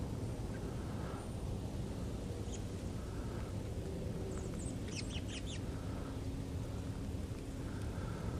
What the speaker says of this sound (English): A bunch of robins just flew over up there.